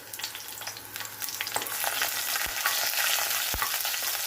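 Green chillies and black cumin crackle in hot mustard oil in a pan. A close, steady sizzle is broken by a few sharp spatula knocks against the pan, with no speech.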